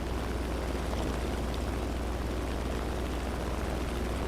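Propeller aircraft engine in War Thunder, a bent-wing fighter plane cruising, giving a steady, loud, continuous drone with a low throbbing hum that holds evenly throughout, with no talk.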